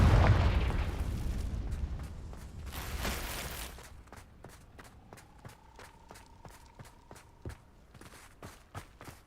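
A Confringo fire spell from Hogwarts Legacy erupts in a loud booming blast that rumbles and fades, followed by a quick run of sharp clicking taps and a faint sustained tone.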